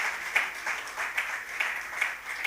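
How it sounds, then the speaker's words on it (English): Audience applause at a fellowship program launch event, a soft, continuous patter of many hands with small swells, heard from some distance in a reverberant room. "So let's give him a round of applause."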